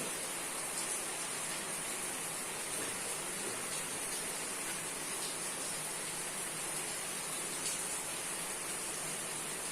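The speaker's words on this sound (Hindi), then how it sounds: "बारिश बहुत जम के हो रही" Heavy rain falls steadily, filling the space with a broad, even hiss that never lets up and carries no voices.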